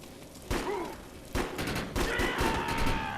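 Pistol shots in the video game Defiance ring out as a few sharp separate cracks, spaced about a second apart, over quiet game ambience with faint tonal effects.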